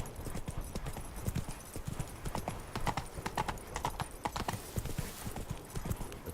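Roach, Geralt's horse in The Witcher 3, trots with quick, even hoofbeats, close and clear, with a brief faint snort.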